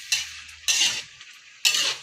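A utensil scrapes and stirs beef biryani in a cooking pot, in three loud bursts of scraping separated by short pauses. A faint sizzle runs underneath.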